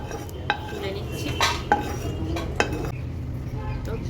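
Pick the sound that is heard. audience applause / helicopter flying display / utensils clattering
utensils clattering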